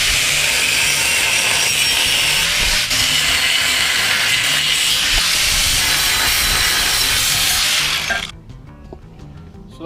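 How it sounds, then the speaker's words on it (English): Steel box section being cut for a TD5 Land Rover Defender, a loud continuous harsh grinding-cutting roar held steady for about eight seconds before cutting off, leaving quiet workshop noise. "I've got a bit of box section which I'm going to chop up"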